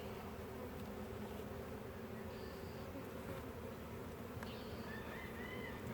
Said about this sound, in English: This bottom box has quite a few more bees in it than the top two did.